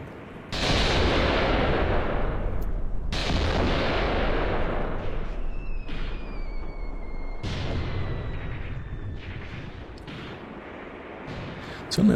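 Massed gunfire from troops in a war game battle: repeated loud blasts and crackling volleys roll through the whole stretch, each burst decaying into a long rumbling tail before the next one hits.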